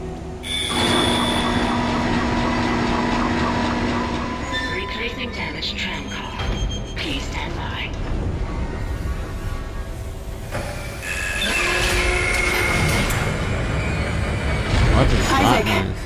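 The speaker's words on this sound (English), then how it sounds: "The tram is blocking the whole system." A tram moving in the video game Dead Space, a steady rumbling ride with mechanical whirs and a long tonal hum, drifting and swelling across the whole stretch while a voice speaks over parts of it.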